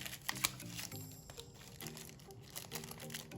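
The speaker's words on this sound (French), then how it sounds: "hop, on va déballer le câble" A USB-C cable is unwrapped from its packaging for Hitune X6 noise-cancelling earbuds, with quiet, close crinkling and rustling of plastic in irregular bursts and small taps, faint and without talk.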